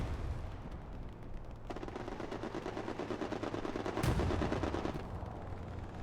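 Aircraft strafing run in a multiplayer war game: rapid, loud machine-gun fire rattles continuously for several seconds, swelling to a peak near the end as the plane passes, with no talking.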